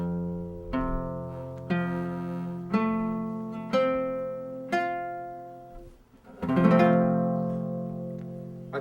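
Open major chord strummed on an acoustic guitar, struck five times at a steady slow pace with each chord ringing and fading, then a fuller, louder final strum that sustains, close and alone.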